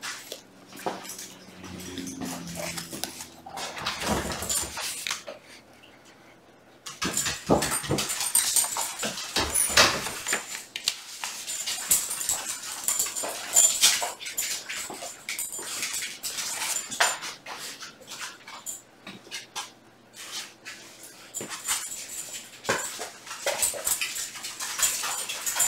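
A puppy whimpers and whines in short bursts over a close, clattery indoor background with dish-like clinks and rustling, loud and continuous, no talking.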